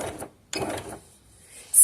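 A domestic sewing machine backstitching knit fabric, two short mechanical bursts of rapid stitching separated by a brief pause, close and fairly loud.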